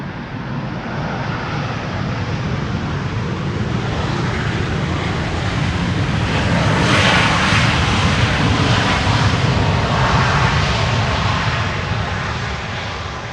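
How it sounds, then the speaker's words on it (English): A Transavia Boeing 737 lands on the Polderbaan runway at Amsterdam Schiphol on a sunny day, its thrust reversers producing a loud, broad roaring rush that swells near the middle and holds steady, with no voices. "You hardly ever see Transavia 737s use reversers on Polderbaan"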